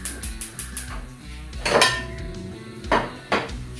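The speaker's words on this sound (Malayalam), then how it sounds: "നല്ല ഒരു ഇരുമ്പ് ചട്ടിയാണ് വെച്ചിരിക്കുന്നത്." A heavy iron pan is set down for cooking beef pepper roast, giving a few close metallic clanks and knocks spread unevenly across the moment, with no talk.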